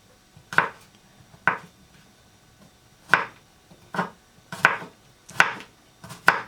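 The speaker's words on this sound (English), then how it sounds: "Just going to cut up my garlic as well" Garlic being chopped with a knife on a cutting board: seven sharp, separate knocks, close and clear, spaced unevenly with short quiet gaps between them.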